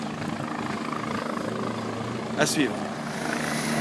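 A helicopter drones steadily with a low rotor thrum, moderately loud and somewhat distant near a bridge by a volcano, while a person speaks briefly over it.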